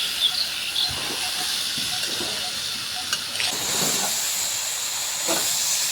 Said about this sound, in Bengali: কুলগুলোকে ভালোভাবে ভেজে দেব।